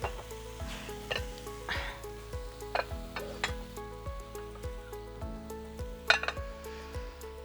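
Food sizzles and fries in a pan while cooking arishta, a noodle dish, with a soft steady crackle and repeated metal clinks of utensils against the pan, fairly quiet and close.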